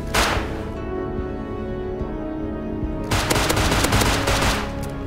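Automatic gunfire in the survival game Rust: a sharp shot at the start, then a sustained loud burst of rapid fire toward the end, dense and close.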